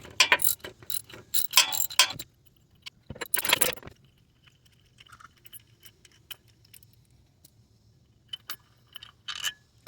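A ratchet clicks in several quick bursts while loosening the lower idler pulley bolt on a Nissan engine, close and sharp, followed by quieter scattered mechanical clicks and taps.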